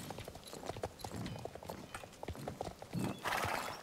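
In the video game Star Stable, a horse's hooves clip-clop in a steady walking rhythm, close and clear, and a short whinny follows near the end.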